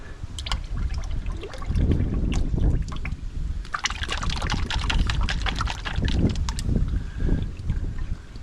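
Liquid engine treatment poured from a tub into the motor of a Kawasaki Ultra 260 personal watercraft with a cracked head, a sloshing, gurgling pour with trickling splashes, close and continuous.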